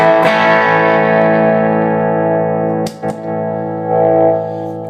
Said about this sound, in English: I guess I could call it a cleanish boost